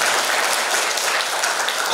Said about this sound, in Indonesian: Tepuk tangan untuk ibu kandung kita.